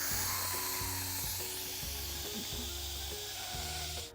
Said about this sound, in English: we're gonna turn it to quick release, which is turning it to venting so all the steam will come out